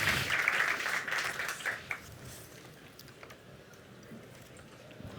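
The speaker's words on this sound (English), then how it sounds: "will you please join me in giving a round of applause to our amazing panelists?" Audience applause for panelists at a business scaleup summit, strong clapping at first that fades within about two seconds into scattered faint claps and room noise.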